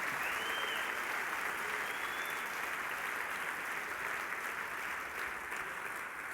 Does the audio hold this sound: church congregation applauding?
yes